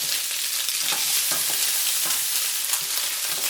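Andouille sausage browning in a hot pan gives a loud, continuous hissing sizzle with faint crackles throughout and no voices.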